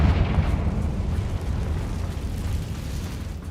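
A Confringo explosion spell in Hogwarts Legacy gives a loud, rumbling blast that rolls on as a continuous deep roar with crackling texture, filling the scene without speech.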